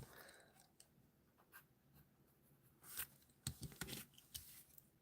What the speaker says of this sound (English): I'm going to come in with a darker pencil.